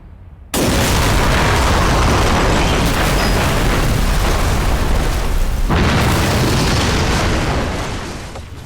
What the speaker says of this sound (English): To demonstrate what the liquid bombs would have done to an airliner, the BBC conducted this experiment using the same ingredients and formula as the bombers.